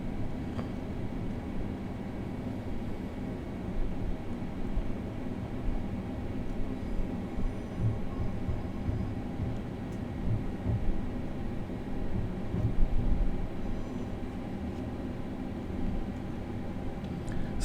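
A Class 387 electric train in Train Simulator coasts with its power shut off, giving a steady low rolling rumble of wheels and track at moderate level with no talk.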